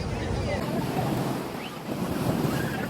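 Sea waves wash continuously onto the shore at Gopnath on the Gujarat coast, a loud, rushing surf mixed with heavy wind buffeting the microphone and faint voices from a crowd nearby.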